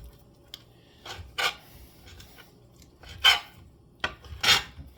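Knife slicing through potatoes for soup on a cutting board, a handful of rasping cuts in irregular bursts, close and fairly quiet with no talk.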